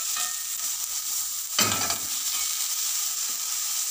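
Eggplant fries in oil in a pan, giving a steady hiss throughout, with a louder crackling burst about midway as the pieces are stirred or shifted before the sizzle settles back to an even level.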